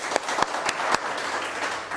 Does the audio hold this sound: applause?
yes